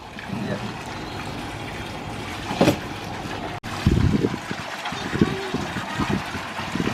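Steady rushing water fills a warm bath or pool where young children are playing, a continuous broadband wash that stays even from start to finish, with brief voices and splashy bursts rising over it now and then.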